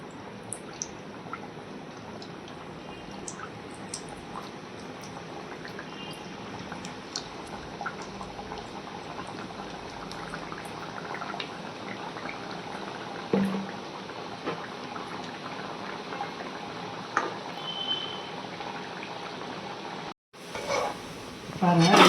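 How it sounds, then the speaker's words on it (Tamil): Steady low sizzling and bubbling of rava and wheat rava dough pieces deep frying in hot oil, with occasional faint clinks and pops, briefly cut off before resuming. "இப்போ இதெல்லாம் போட்டு பொரிச்சு எடுத்துக்கலாம்."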